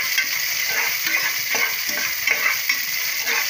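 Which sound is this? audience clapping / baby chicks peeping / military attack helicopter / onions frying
onions frying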